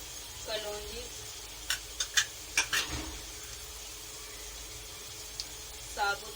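Whole fenugreek and nigella seeds sizzle in hot oil in a pan, a soft steady fry with a few sharp clinks of a spoon against the pan and faint voices nearby.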